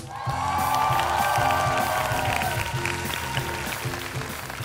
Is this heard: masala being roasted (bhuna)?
no